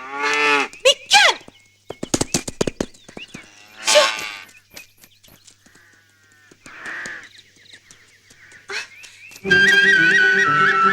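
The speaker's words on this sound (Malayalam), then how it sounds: "ആ അസത്ത് പശു എവിടെയെന്ന് നോക്കട്ടെ" A cow gives several loud moos close by in a rural setting, with crows cawing among them and a burst of music near the end.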